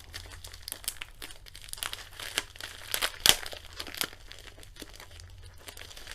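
A glued bubble wrap envelope being torn open: crinkling plastic and paper tearing with scattered sharp rips, the loudest peel near the middle, close and fairly quiet.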